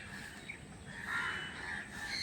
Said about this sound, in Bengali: আর চারিদিকে কাক ডাকছে।